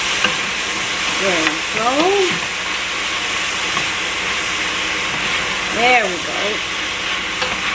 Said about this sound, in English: We're just going to let this saute a little bit